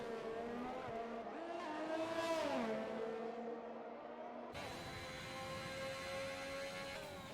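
Formula 1 race car on a flying lap at Monaco in a racing video game, engine note climbing and dropping through gear changes, a steady loud onboard whine that shifts abruptly midway.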